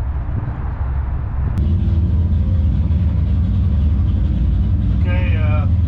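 A supercharged Buick Regal GS engine rumbles loud and steady close by, with a brief click and a short whine near the end.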